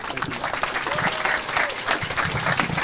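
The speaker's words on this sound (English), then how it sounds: "The applause in the gymnasium is also for you, I'm sure." Applause fills a school gymnasium during a School of the Year presentation, a continuous wash of many hands clapping with roomy echo and some voices mixed in.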